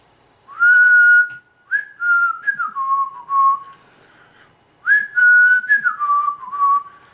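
A person whistles alone in clear tonal phrases: a long held note, then several short sliding and falling notes, a pause, and another held note followed by descending slides, close and fairly loud.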